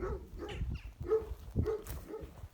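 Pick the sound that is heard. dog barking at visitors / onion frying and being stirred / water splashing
dog barking at visitors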